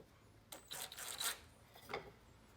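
A screw is started into a wooden TV stand side board with a special Kreg jig pocket-hole bit, giving a few brief, faint grinding and rasping bursts against a quiet background.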